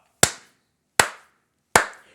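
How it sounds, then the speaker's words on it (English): Three single hand claps, sharp and close, spaced evenly about three-quarters of a second apart with silence between them. "Clap it the fuck up."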